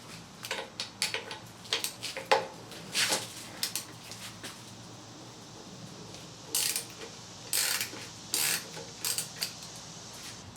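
A hand ratchet fitted with a 12mm socket works a fastener during a power steering pump reseal on a 1994–97 Honda Accord, giving bursts of quick clicking strokes with short pauses between them, close and fairly crisp.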